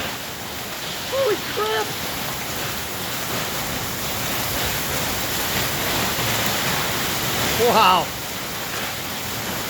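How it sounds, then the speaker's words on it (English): Heavy storm rain pours down steadily as a dense, constant wash, with loud exclamations from a person cutting in twice over the downpour. "This is some heavy rain, baby."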